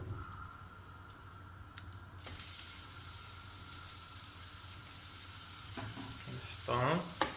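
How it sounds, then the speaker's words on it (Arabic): Aubergines frying in a hot metal pan, a steady loud sizzle that jumps up sharply as they are dropped in, with occasional scraping stirs near the end. "كنحطوهم كنخليهم يتقلاو شويه"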